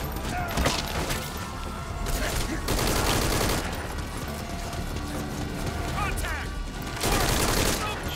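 Gunfire in Metal Gear Solid 5: Ground Zeroes, with bursts of rapid shots and clattering impacts over a busy, loud game soundscape, the volume swelling in several dense waves.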